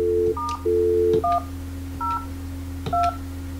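Polycom 450 VoIP desk phone keypad sounds a series of short DTMF dialing tones, about six clean beeps in an uneven rhythm over a steady low hum.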